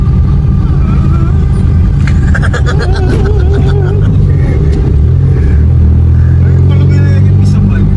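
A car's radiator fan roars loudly and steadily from close by, a constant whooshing drone with a low rumble underneath, while people talk over it.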